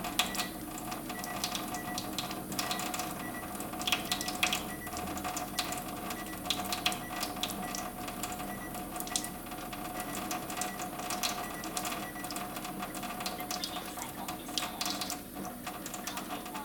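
Kangen water ionizer running its self-clean cycle, giving a steady mechanical whir and hum laced with rapid faint ticking that continues unbroken throughout at low volume.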